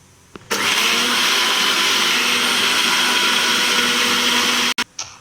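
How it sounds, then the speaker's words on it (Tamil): A kitchen mixer grinder grinding sugar and cardamom whirs loudly at high speed for several seconds, a steady grinding roar that starts abruptly and cuts off with a brief restart. "இப்போ நம்ம சுகர் ஏலக்காய் அதை நம்ம மிக்ஸியில் அரைக்க போகணும்."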